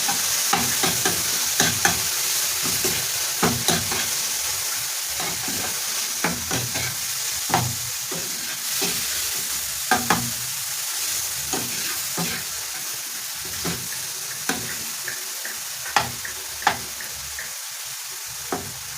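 White mushrooms fry in butter in a pan with a steady sizzle and frequent spatula scrapes and taps on the pan, close and fairly loud, with no speech.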